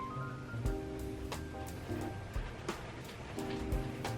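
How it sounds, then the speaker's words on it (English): Steady rain hisses outside with scattered sharper drips and taps, fairly soft and continuous, with faint tonal sounds drifting underneath. "It's really pouring it down."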